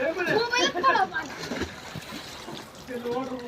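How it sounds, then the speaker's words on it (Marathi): People jump into a well and splash about in the water. The wet splashes and sloshing are short and close, and excited voices talking over them include a child's. "ते आता उडी मारलेले आहेत त्यांनी गेले पाण्यामध्ये"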